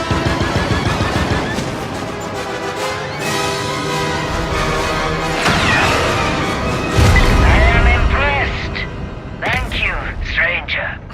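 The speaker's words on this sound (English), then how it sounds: "Turret activated, Kay" Turret gunfire in the Star Wars Outlaws video game, loud repeated blaster-like shots and booms over a busy score, with a voice speaking briefly amid the barrage.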